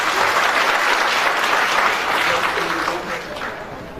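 An audience bursts into loud, sustained applause welcoming a guest at an event, a dense crowd of clapping that fades slightly toward the end.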